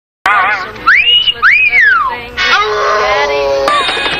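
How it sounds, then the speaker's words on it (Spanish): Cartoon wolf-whistle from the classic Red Hot Riding Hood short: two loud rising-and-falling whistles in quick succession, followed by a bright brassy swing music burst with a sustained ringing tone. "es el mismo silbido que la máscara hace cuando Cameron o Tina está presentando su baile en el Cocobongo"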